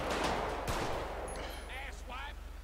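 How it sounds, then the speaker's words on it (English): Gunfire from the video game GTA V with the LSPDFR police mod: a loud burst of sharp shots at the start, followed by fainter pops over a steady low engine hum and short chirping game sounds. "Shots fired! Put the gun down!"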